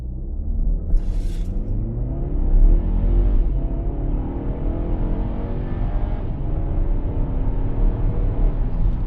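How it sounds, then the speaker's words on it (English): A 2025 Geely Starray SUV with 238 hp and 4WD launches hard from a standstill at night, its deep engine rumble swelling steadily and staying loud and close throughout, with no talk over it. "Full stop here, and we will just hold the brake, floor it all the way"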